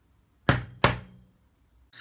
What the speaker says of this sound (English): in this case, a double knock.